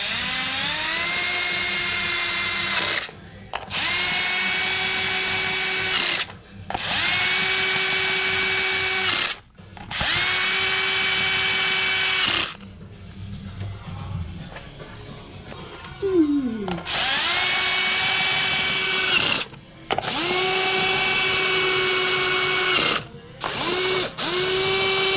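A power tool tightens bolts on the K-member of a Ford Coyote engine swap in a Mach 1, running in several loud sustained bursts with short pauses and a ratcheting clatter in the middle gap.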